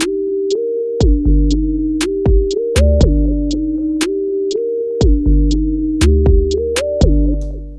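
Hip-hop beat built on an expanded basic drum pattern, with punchy kicks, crisp snare and hat hits locked to a steady groove under a repeating synth bass and chord line, loud and alone with no talking.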